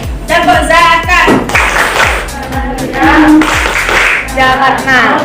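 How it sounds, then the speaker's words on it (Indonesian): A class of children claps together in steady rhythmic bursts while chanting a clapping song in a school setting, with loud sharp hand claps repeating throughout under their voices. "Tepuk tangan."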